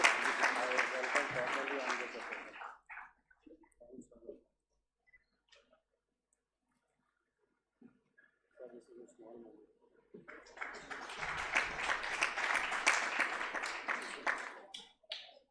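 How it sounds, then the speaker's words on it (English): Audience applause at an international physical education and sports conference felicitation comes in two bursts of dense clapping separated by a long near-silent gap with a few faint scattered sounds. "Please give a round of applause."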